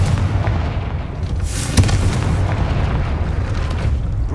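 The Confringo blasting spell explodes in Hogwarts Legacy with a loud booming impact, one sharp burst within a heavy rumbling wash of noise that continues throughout.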